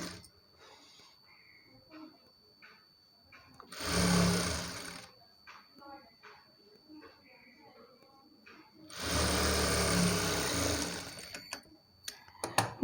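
A sewing machine runs in two loud bursts, stitching a final seam along blouse cloth, with quieter handling and speech-like sounds between the runs.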